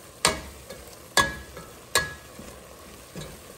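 Taco seasoning being stirred into ground meat frying in a pan: three sharp scraping strokes spaced about a second apart, then a softer fourth, over a faint steady sizzle.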